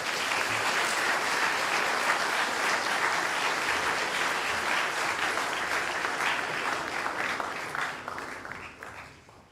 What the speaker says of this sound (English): Let's give AB a round of applause.